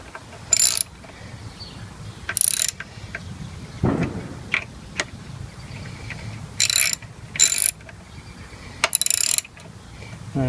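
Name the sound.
tightening motorcycle front brake bolts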